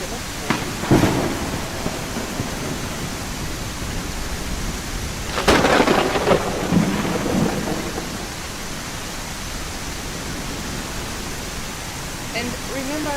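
Video game thunderstorm with steady rain hiss throughout and two thunder cracks, a sharp one near the start and a louder rolling crash midway, fading back into the downpour.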